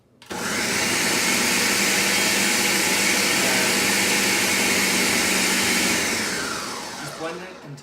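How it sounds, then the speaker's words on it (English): A blender purees spiced sweet potato and apple soup in a loud, steady whir that runs nearly eight seconds, then winds down at the end. "Just blend it until it's smooth"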